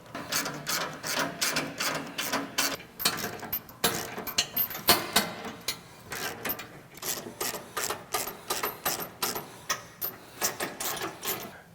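A ratchet drives a 19 mm socket to tighten frame bolts for a diesel skid plate, clicking in quick, uneven bursts of sharp metallic ticks, close and clear, with short pauses between strokes.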